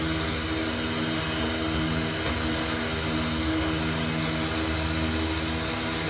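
Twin Otter twin-turboprop engines droning in a home-built cockpit flight simulator, a steady, continuous engine hum with a fixed tone that holds evenly throughout, with no talk.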